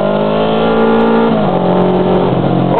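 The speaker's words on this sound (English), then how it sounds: "Look at that car, red light, flying out." A car accelerates hard away from a red light on a city road in Taiwan in the morning, a loud, close engine roar rising in pitch through a gear change, with no voices.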